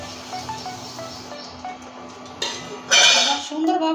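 Flattened rice being stirred into bubbling jaggery in a pan, with scraping and clinking of a spoon against the metal, a soft steady bubbling underneath and a louder burst of stirring toward the end.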